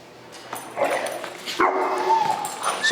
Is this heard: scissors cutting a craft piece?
no